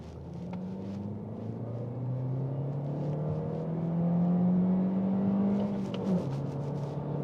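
A 2022 Toyota Corolla Hatch with a six-speed manual pulls up a ramp in second gear, its engine tone climbing steadily from inside the cabin before a brief dip near the end.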